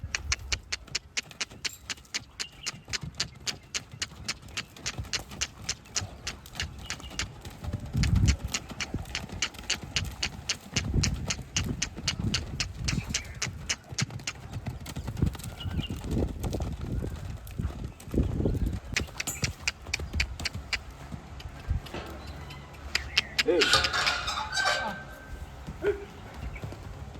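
Two horses, a mare and a horse, trot with rapid, regular clip-clopping hooves that continue for the whole stretch, loud and near, while someone talks and calls out over them intermittently.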